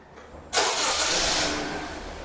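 A 2016 Honda Civic engine starts by remote command: a sudden crank and catch, then a loud, close, steady idle that settles slightly, with no talk.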